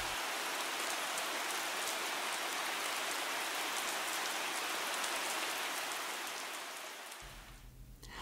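Steady, heavy rain pattering on a surface, dense and continuous, easing off slightly in the last second.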